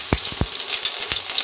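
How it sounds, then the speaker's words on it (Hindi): Onions hit hot oil in a kadhai and fry with a bright, steady sizzle, broken by a few soft clicks from stirring, close up with no talking. "अब हम इसमें डाल देते हैं प्याज।"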